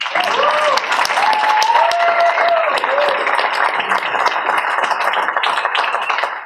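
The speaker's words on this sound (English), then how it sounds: "give him another round of applause, please" An audience applauds at a presentation in a continuous, loud wash of clapping that lasts the whole stretch, with faint tonal ringing threaded through it.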